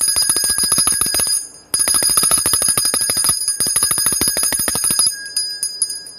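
Hotel desk bell struck rapidly again and again in a steady, loud metallic ringing, pausing briefly once, then a few slower final dings trailing off, with no voices.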